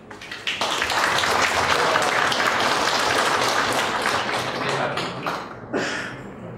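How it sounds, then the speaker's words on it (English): An audience claps at a seed quality control workshop, a dense, sustained burst of hand claps that swells quickly, holds steady and tapers near the end, with a brief renewed flurry. "I am requesting to audience for a big clapping"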